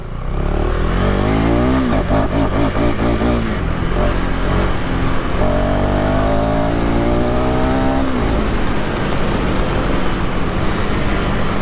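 A motorcycle engine pulls hard through rising gears, its pitch climbing repeatedly under steady wind rush, loud and continuous throughout.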